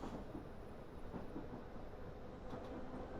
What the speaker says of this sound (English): There is another train going by.